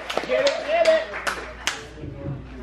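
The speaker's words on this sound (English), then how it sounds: "Let's get a round of applause for them." A few sharp, separate claps at a comedy roast show, not full crowd applause. A voice talks underneath them.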